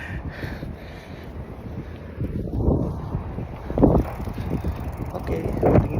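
Steady broadband wind buffeting a microphone outdoors while cycling, gusting louder at moments, with faint mechanical rattling underneath.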